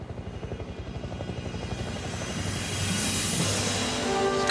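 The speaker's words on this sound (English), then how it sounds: "It's a helicopter, I know it is." A helicopter flies overhead, its rhythmic rotor thumping growing steadily louder and nearer over several seconds, with no voices.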